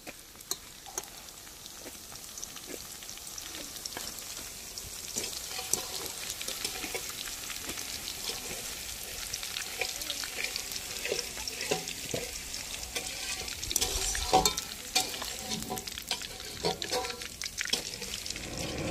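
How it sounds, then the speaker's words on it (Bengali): Yard-long beans fry in a pan during a large cooking session for fifty people, a steady, close crackling sizzle with scattered ticks and stirring scrapes throughout, no talk. "বরবটি এবারে ভেজে নেব।"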